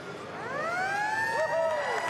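The ground siren at a 2012 WAFL Australian rules football match between Peel and East Fremantle gives a long wailing note that rises and sweeps, loud and clear over crowd noise.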